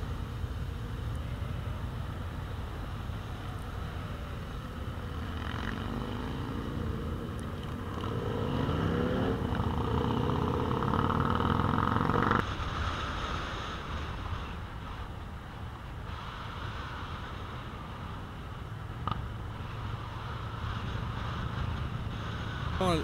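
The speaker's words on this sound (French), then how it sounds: "je trouvais bien d'avoir le son des motos aussi" A long line of motorcycles on a group ride, engines droning steadily as the bikes climb a hill together, the roar swelling midway and then settling into a lower continuous rumble with wind noise.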